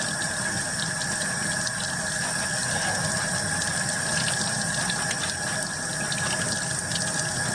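Warm water runs steadily from a tap while gloves are scrubbed with Oxi Clean, a constant close hiss and splash with a faint squeal throughout and no talk.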